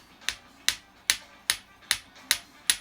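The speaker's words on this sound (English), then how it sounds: "I'm going to tap that a few times just to get it to where the wire just starts to flatten out" A hammer taps earring wire flat in seven evenly spaced, sharp metallic strikes, each with a short ringing decay, close and distinct over faint background music.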